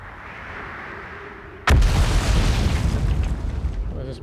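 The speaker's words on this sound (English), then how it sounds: "it's about to cave in on me now" A cave collapses in the Outer Wilds video game: a sudden heavy boom breaks out of a quiet hum, then a dense, roaring rumble carries on loudly for several seconds.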